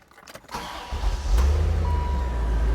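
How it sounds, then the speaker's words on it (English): A Chevrolet C4 Corvette engine cranks briefly and catches, then settles into a steady, loud low idle burble close by, with no one talking. "go ahead and hop in and fire it up"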